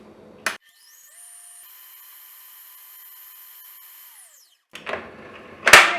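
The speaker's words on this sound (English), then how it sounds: "We're going to go ahead and mix this till that butter and sweetener have combined" An electric mixer creaming butter with stevia sweetener for keto zucchini bread, a steady whirring hum for about four seconds between brief handling knocks and clatter.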